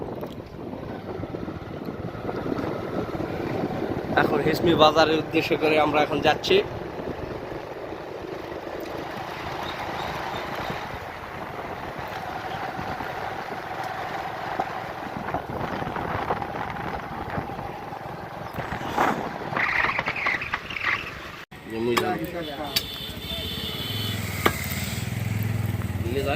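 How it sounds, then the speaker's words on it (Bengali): Riding as a passenger on a motorcycle heading to a market, with a continuous engine drone and heavy wind buffeting the microphone, and someone talking over it in places. "ভাইয়ের মোটর সাইকেলে উঠলাম"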